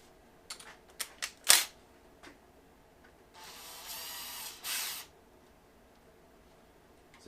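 Ratchet breaking loose a reverse-threaded Vanos bolt on a BMW M54/M52TU engine: a few sharp clicks and a loud crack, then a two-second burst of steady mechanical whirring and a short follow-up burst, with no talking.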